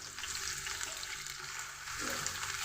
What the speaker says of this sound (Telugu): స్టవ్ వెలిగించి ఆయిల్ పోసి పెట్టారండి ఉల్లిపాయలు వేసేసుకుంటున్నాను